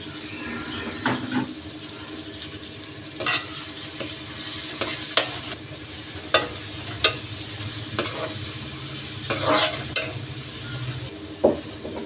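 Steady sizzling of onions frying in a pan, with intermittent scraping and stirring clicks from a utensil throughout.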